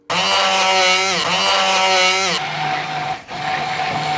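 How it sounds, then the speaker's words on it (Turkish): Philips hand blender motor whirs loudly and continuously while blending meze, pitch dipping briefly as it bogs down, then changing tone partway through as it keeps running. "El blender'ı kullanıyorum"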